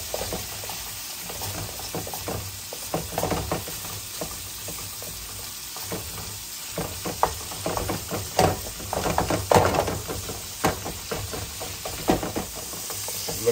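Meat sizzling and being chopped on a griddle for a chopped cheese, with a constant frying hiss and rhythmic scraping and tapping of a spatula.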